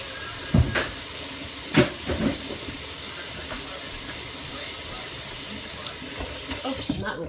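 Tap water runs steadily into a kitchen sink during hand washing, a continuous splashing hiss with a few brief louder knocks and bumps from movement, heard alone without talk.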